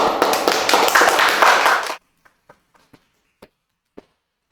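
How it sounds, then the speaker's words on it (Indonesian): An audience in a school classroom clapping, a loud burst of group applause for about two seconds that stops abruptly, followed by a few scattered single claps. "Tepuk tangan dulu dong."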